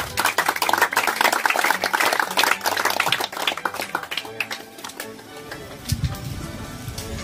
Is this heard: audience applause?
yes